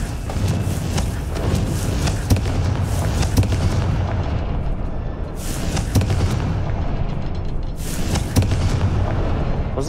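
Confringo fire-spell blasts in Hogwarts Legacy, repeated booming explosions with crackling bursts in a dense, loud sequence that rises and falls over several seconds, with no voices.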